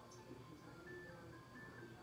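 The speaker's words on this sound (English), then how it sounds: "I hear the ice cream truck." Very faint, distant ice cream truck jingle, a thin melodic tone drifting through a quiet indoor room over low background noise.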